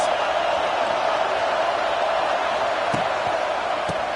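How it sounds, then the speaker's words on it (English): A large stadium crowd at a football game roars in a dense, continuous wash of noise, with a couple of faint thuds and knocks near the end. "Listen to this crowd just shaking the girders of this place, trying to help their defense."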